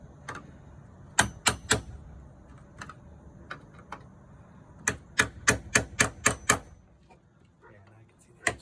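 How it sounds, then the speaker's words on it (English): A chisel is tapped behind an RV door's friction hinge to knock its rivets loose, giving sharp metallic clicks in quick bursts of three and then seven, close and crisp, between quieter stretches of scraping and handling. "I'm just gonna take a chisel and just break them loose very gently behind it"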